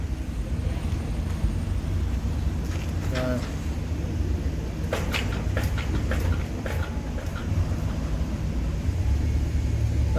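Road traffic rolls past in a steady, continuous low rumble, with some distant vehicle noise and muffled talk mixed in.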